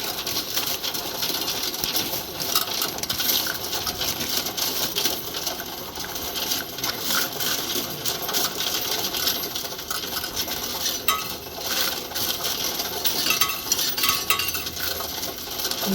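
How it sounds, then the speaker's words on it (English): A stream of coins pours and clinks against metal and each other during a coin count, a dense, continuous jingling and rattling that carries on unbroken throughout. "You hear all those coins falling?"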